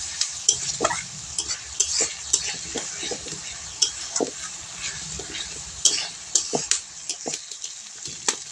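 Masala with ground coriander and dried chili powder stir-fried for a chicken dish, sizzling steadily in the pan while a spatula scrapes and taps the metal in irregular close strokes.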